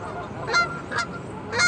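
A flock of geese and ducks gathered in a parking lot honks a few times at moderate distance, with sharp calls breaking over a steady outdoor background.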